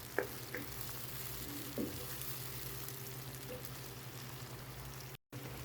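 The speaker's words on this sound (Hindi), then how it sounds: "इसको मैं 2 मिनट कुक करती हूँ ताकि टमाटर हल्का सा सॉफ्ट हो जाए" Okra and tomatoes fry in a pan with a steady, quiet sizzle, a few soft stirring clicks near the start, and no voices.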